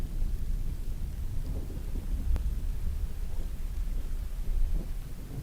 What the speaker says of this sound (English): I want to share some of this relaxing thunderstorm sound with you guys